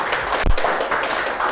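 Lecture audience clapping, a brief burst of dense applause from a crowded room, lasting about a second and a half, with one sharper tap near the start.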